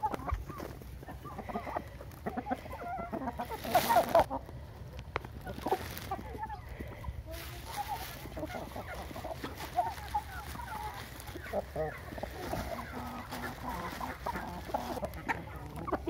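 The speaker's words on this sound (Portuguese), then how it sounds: "esses aqui são frangos da raça índio gigante" Índio Gigante chickens cluck and call on a rural smallholding, with short repeated clucks scattered across a low outdoor background, a louder burst of activity early on and intermittent calls afterward.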